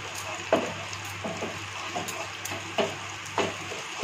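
Ginger sizzling in a hot pan with salt and a little turmeric, a steady close frying hiss with occasional louder pops and stirring scrapes.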